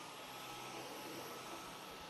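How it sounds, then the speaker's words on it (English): A vacuum cleaner runs with a steady, broad whooshing roar, constant and unbroken throughout, picked up by a wireless microphone at low level. "So, vacuum is on. Vacuuming, right?"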